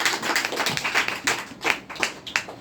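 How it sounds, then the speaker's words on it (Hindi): Loud, uneven clapping from a seminar audience, with distinct bursts of hand claps swelling and fading in a rough rhythm and no talk over them. "बहुत बढ़िया, जोरदार ताली।"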